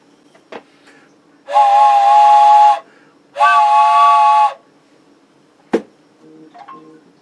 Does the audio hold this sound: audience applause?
no